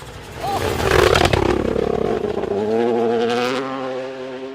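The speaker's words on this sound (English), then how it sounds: "Can you hear the 3-cylinder in the distance?" A three-cylinder rally car tears past on a loose gravel stage, rising from a distant approach to a loud roaring pass with a falling, revving engine note as it pulls away, with faint spectator voices around.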